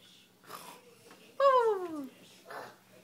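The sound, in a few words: child imitating a snore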